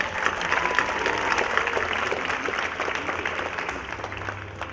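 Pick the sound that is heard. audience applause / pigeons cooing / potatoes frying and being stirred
audience applause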